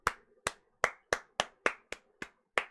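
Player characters clap during an in-game cinematic in a video game, producing nine sharp, evenly spaced claps roughly every third of a second, crisp and moderately quiet, with no talking.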